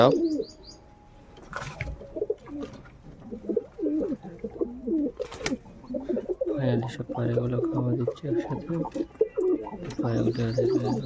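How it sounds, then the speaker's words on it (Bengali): Domestic pigeons coo in low, throaty, rolling phrases close by, with a few sharper chirps and wing or shuffling sounds mixed in. "তো চলো পায়রাগুলো তোমাদের দেখাই তো এইগুলো আমাদের দেখতে পাচ্ছ আমার কবুতর আছে"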